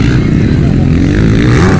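A motorcycle racing and jumping gives a brief, loud, droning engine roar, with a voice shouting over it.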